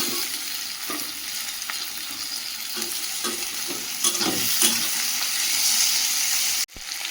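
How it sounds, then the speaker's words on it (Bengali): Onion, chilli and ginger-garlic paste fry in a wok with a steady, close sizzle, broken by repeated scraping stir strokes throughout. "পেঁয়াজ ভাজা ভাজা হয়ে গেছে, আদা রসুন বাটা দিয়ে দেবো"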